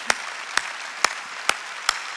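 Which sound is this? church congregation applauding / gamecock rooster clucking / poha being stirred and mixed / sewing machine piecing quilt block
church congregation applauding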